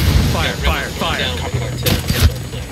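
Gunfire in the video game Ghost Recon Wildlands during an ambush, bursts of rapid shots and a few heavier booms mixed with voices talking over the action.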